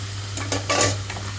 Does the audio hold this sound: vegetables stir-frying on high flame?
yes